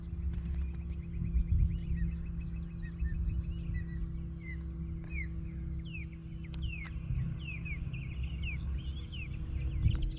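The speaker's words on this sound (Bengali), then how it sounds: "পাখির শব্দটা শুনতেছেন" Birds sing at a fishing spot on Lake Okeechobee, Florida, with scattered chirps, quick trills and sharp calls at moderate distance over a constant low hum.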